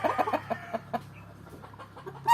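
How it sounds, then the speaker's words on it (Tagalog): Gilmore Hatch gamefowl hen clucking in a backyard breeding pen, a run of short close clucks over a low background hum, trailing off into quieter scattered sounds. "Manok yan ng mayor namin."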